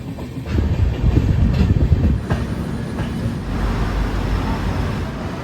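A train running from Kolkata to Varanasi rumbles steadily along the rails in rainy weather, a continuous low roar with faint rhythmic clatter and occasional squeaks, close and fairly loud throughout.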